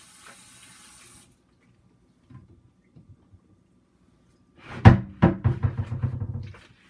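A kitchen tap runs briefly at the start for a hand rinse, then after a pause come sharp knocks and clattering sink sounds with water splashing.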